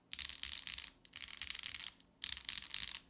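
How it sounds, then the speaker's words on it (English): Bare switches on a MonsGeek M1W aluminium keyboard, keycaps removed, click and clack in three fast bursts of typing. The sound is crisp and close, with short pauses between bursts. "this is how it sounds without the keycaps"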